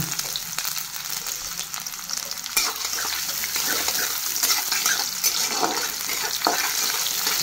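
Onions frying in a pan, a bright continuous sizzle with scattered crackles and stirring scrapes, close and fairly loud, with no talking.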